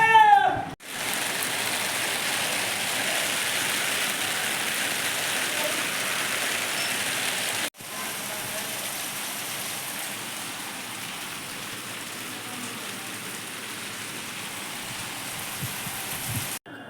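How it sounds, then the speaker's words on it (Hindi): Steady rain falls throughout, a continuous broadband hiss of drops on surfaces at moderate loudness, with a brief gap partway through before the downpour resumes; no one speaks. "अभी अल्हम्दुलिल्लाह आज थोड़ी सी बारिश होने लगी है"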